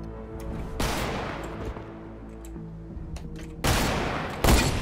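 Gunshots in a Fortnite Battle Royale shark-attack sniper game mode. Three loud, sharp blasts ring out with long, fading tails between them over a low, steady background hum.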